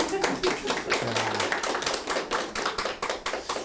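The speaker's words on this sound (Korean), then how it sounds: "박수 한번 칩시다." An audience at a Buddhist Diamond Sutra lecture claps in a quick, dense burst, with talking and laughter mixed in.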